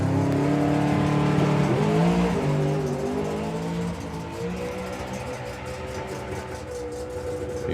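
A drag racing car at the FIA/FIM Main Event 2025 roars hard down the strip, its loud, near engine note climbing steadily and sounding like it misfires at the top end, with no talk over it.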